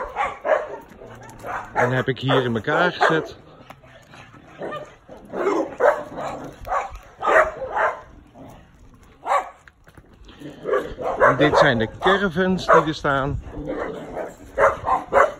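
Several dogs barking in large donated kennels at an animal shelter, bursts of loud, close barks and yips coming in clusters while someone talks between them.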